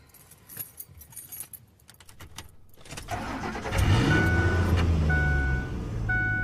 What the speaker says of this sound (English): Next, we turn on the engine.